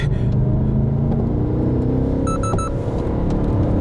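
A BMW M8 Competition coupe engine roars steadily at high revs on a track, with quick gear shifts cutting in near the middle, loud and close.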